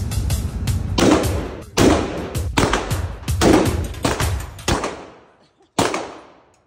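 Gunshots at a shooting range ring out as about seven sharp, loud cracks at irregular intervals, each followed by a short decay, with a pause before the final shot.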